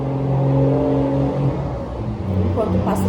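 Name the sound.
truck passing by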